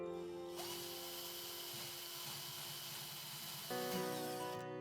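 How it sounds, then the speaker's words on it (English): A power drill pre-drills screw holes into a wooden drawer front while a Maxx Drawer system is being installed, giving a close, steady whine that shifts pitch and grows slightly louder near the end, with no talking. "Now pre-drill the holes."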